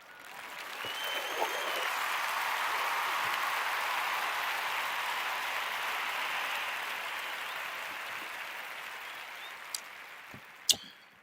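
A long, even round of applause swells in, holds steady for several seconds, then fades away, followed by a couple of sharp clicks near the end.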